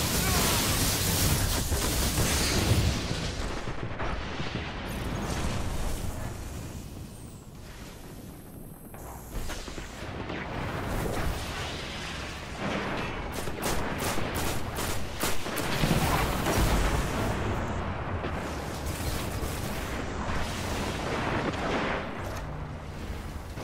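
A Destiny Iron Banner multiplayer match where a Golden Gun super fires amid heavy, dense gunfire and booming blasts, with a rapid cluster of sharp shots in the middle over constant loud game noise.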